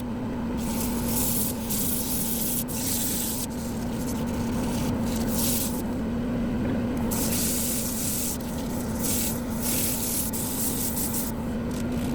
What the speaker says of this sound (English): I think that'll sand now.